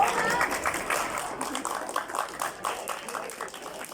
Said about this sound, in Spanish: recibamos a nuestra invitada con un fuerte y merecido aplauso